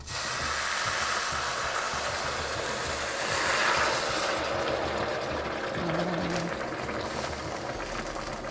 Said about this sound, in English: I'm just going to go ahead and deglaze it and add the boiling water at the same time